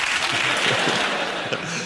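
A television chat show studio audience claps. The dense, even applause fills the short stretch at moderate volume with no talk over it.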